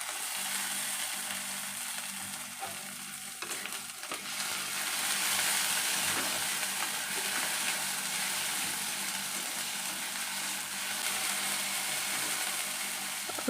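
Ground spice paste fries in oil in a wok for an egg curry, giving a dense, even sizzle that swells slightly midway and carries on steadily with no voices.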